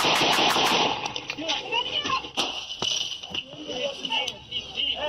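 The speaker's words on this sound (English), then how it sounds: "He's shooting me." Gunfire during a police confrontation with an armed suspect: a rapid burst of sharp shots at the start, then scattered single cracks amid shouting voices and commotion.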